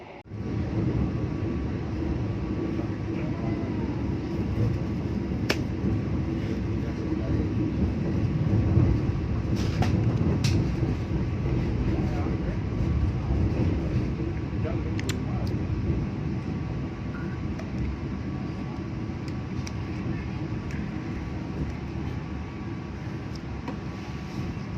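Interior of the Jayabaya economy-class passenger train running toward Lawang station, a continuous low rumble and hum of the carriage with faint rattles and occasional sharp clicks, steady and unbroken, no talk.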